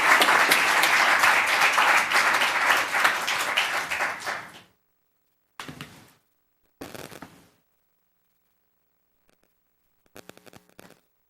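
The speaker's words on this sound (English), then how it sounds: "Another round of applause for them," A crowd at a Los Gatos town council meeting applauds loudly for about four seconds, fading out, followed by a few short scattered bursts of clapping separated by silence.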